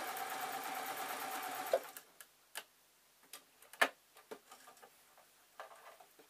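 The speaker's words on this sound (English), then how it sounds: "we're going to put some tacking stitches just on the end here, and I'm going to keep as close to the edge as I can" Sewing machine stitching tacking stitches along the edge of fabric for an owl project, a steady close whirring run for about two seconds, then stopping into scattered faint ticks and clicks.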